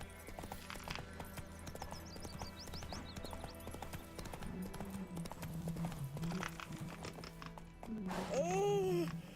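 Roach the horse gallops with steady clip-clop hoofbeats in The Witcher 3 game world, a neigh rising near the end, over constant background game music and ambience.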